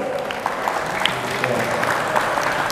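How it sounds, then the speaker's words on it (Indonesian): A room full of people claps steadily, a dense, even patter of applause with a murmur of voices underneath. "Kasih tepuk tangan buat Mister Arul."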